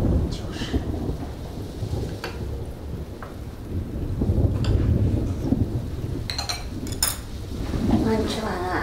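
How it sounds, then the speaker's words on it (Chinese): Thunder rumbles steadily through a downpour, a deep continuous roll that swells and fades, with rain hiss and a few sharp clattering knocks on top. "这雷打得越来越近了啊！"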